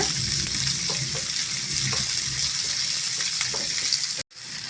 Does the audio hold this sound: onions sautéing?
yes